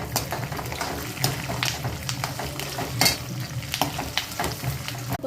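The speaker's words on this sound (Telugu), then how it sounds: "ఇప్పుడు ఎండుమిర్చి వేసుకోవాలి." Dried red chillies frying in hot oil with chana dal and peanuts for raw mango pulihora, a steady close sizzle broken by sharp scraping stirs of a spoon against the pan.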